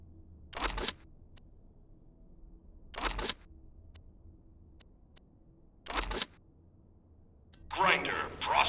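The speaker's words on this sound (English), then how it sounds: "Grinder processing now." A grinder machine in the video game Borderlands works in three short, evenly spaced mechanical bursts, each about half a second long over a low hum. A denser, brighter clatter builds at the end.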